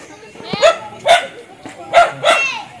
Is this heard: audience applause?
no